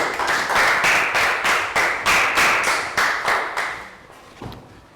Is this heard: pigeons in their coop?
no